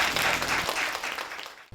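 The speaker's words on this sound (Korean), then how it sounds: "우리 하나님께 영광의 박수 올려드립니다." Church congregation gives a brief round of applause for God, a steady wash of many hands clapping that tapers off and cuts out after under two seconds.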